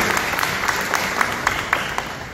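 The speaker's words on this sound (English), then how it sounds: "So that deserves a round of applause" An audience applauds at a regional funding announcement, steady clapping from a moderate-sized crowd with a few sharper individual claps standing out as it tapers.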